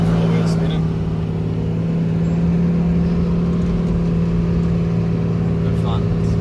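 A 4x4 drives over a beach in low-range four-wheel drive, its engine a steady, close, continuous drone with deep low rumble and faint wind noise throughout.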